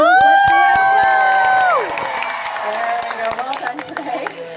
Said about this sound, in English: So let's have a practice cheer for Sarge.